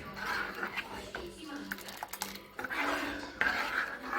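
A spoon scrapes and clinks against a metal pot while bottle gourd curry is stirred, with repeated rough scraping strokes close up and a voice talking over it.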